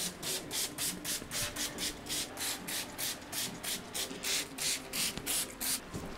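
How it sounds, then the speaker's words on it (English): Liquid sander is sprayed and rubbed over a furniture surface to degloss it before priming, giving a steady series of rhythmic, hissy scrubbing strokes, close and moderately quiet, with no talk. "This is liquid sander that I'm spraying on here just to degloss the surface before I start priming."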